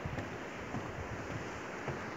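Steady wash of sea waves at Rosh HaNikra, a continuous broadband roar with wind across the microphone and no talking.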